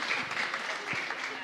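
A congregation at a live-streamed novena Mass for San Isidro Labrador in Areguá claps steadily for a short stretch, with faint voices mixed into the dense applause.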